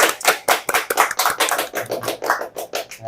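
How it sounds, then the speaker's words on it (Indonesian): Audience applause at a stage performance, a dense run of overlapping hand claps that stays steady and fairly loud for about three seconds, with no voices over it. "Tepuk tangan dong."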